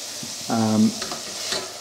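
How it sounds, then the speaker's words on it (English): Beef and bacon frying in a pan with dried thyme and rosemary, a steady close sizzle with a brief louder stirring scrape in the middle, no talking. "Now this has been frying for about a minute and a half, and I'm just going to add some dried thyme and some rosemary."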